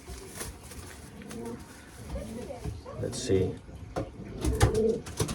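Young racing pigeons coo softly and repeatedly while being put into a basket, close by, under a person talking briefly.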